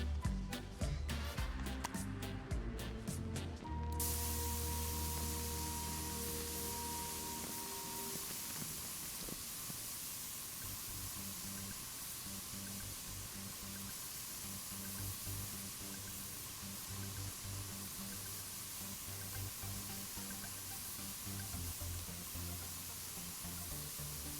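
Spray painting in the video game Spray Paint Simulator: a brief burst of tonal game sound gives way to a continuous, even hiss of spraying that runs steadily to the end.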